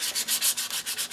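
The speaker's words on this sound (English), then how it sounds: "So I'm going to give this a little sanding." Sandpaper rubbing back and forth across a glossy, shiny album cover to scuff the surface, a close, steady series of about ten rhythmic rasping strokes with no talk.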